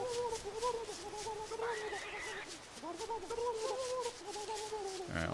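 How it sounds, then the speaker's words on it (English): Gobbler turkeys gobble and cluck in the video game Don't Starve, a string of repeated warbling bird calls at moderate level running through the whole stretch. "They must have made it harder to hunt the gobblers."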